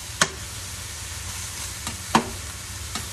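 Mini peppers cooking in a pan give a faint low sizzle, broken by three or four sharp clacks of a utensil against the pan, close and quiet without talk.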